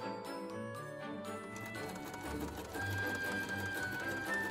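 A sewing machine runs steadily, stitching dress panels together for a holiday ballgown, its mechanical whir and rapid needle ticking continuous and close with no talking.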